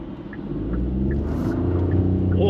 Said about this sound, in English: bit of wheel spin from the mighty 62 horsepower